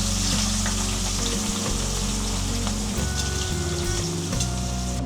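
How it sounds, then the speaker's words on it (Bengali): Onions hit hot oil left over from frying rui fish, sending up a loud, continuous close-up sizzle that stays dense and even from start to finish, with no voices. "এখন এই মাছ ভাজার তেলের মধ্যে আমি পেঁয়াজগুলো ছেড়ে দেব"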